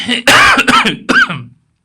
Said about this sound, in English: Wow, I'm already coughing.